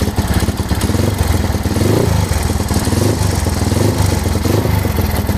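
A Honda Megapro motorcycle engine with a rough, ticking cylinder head is revved, a loud close roar with steady clattering pulses, rising and holding through the throttle blips, no speech.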